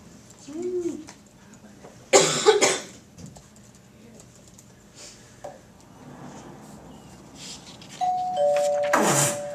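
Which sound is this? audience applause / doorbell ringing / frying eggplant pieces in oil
doorbell ringing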